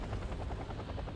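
Mi-28 attack helicopter in the war strategy game Wargame: Red Dragon, a steady close rotor thrum with a rapid pulsing beat throughout, heard alone without voices.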